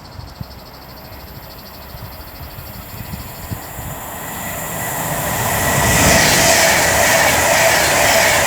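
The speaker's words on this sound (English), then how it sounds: "now approaching will be 39103 for Avanti West Coast, working 1 Alpha 30 from Manchester Piccadilly to London Euston" Avanti West Coast train 39103, running from Manchester Piccadilly to London Euston, approaches and passes through Rugeley Trent Valley station. A soft distant hum swells into a loud, close rush of wheels and rail noise, with no voices.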